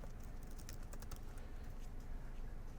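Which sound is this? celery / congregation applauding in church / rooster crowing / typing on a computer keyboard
typing on a computer keyboard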